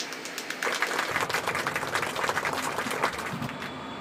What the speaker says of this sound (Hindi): तो मंत्री जी का जोरदार तालियां हो जाए।